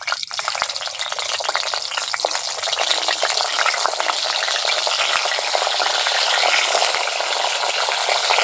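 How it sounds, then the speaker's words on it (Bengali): Pointed gourd frying in white oil in a wok, a loud dense hiss and crackle that builds steadily and stays bright and constant, heard up close with no talking. "পটল ভাজার জন্য তেলটা দিয়ে দিচ্ছি।"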